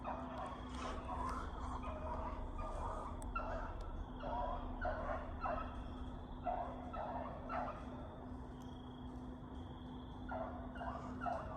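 A 13-inch female hunting beagle and packmates bay at a distance while working a check on a rabbit track outdoors, with repeated bursts of howling over steady wind and field noise.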